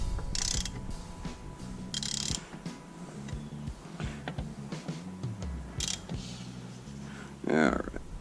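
A ratchet works T30 Torx screws out of an F-150 seat latch release, clicking and whirring in short bursts up close, with quiet mechanical handling between turns.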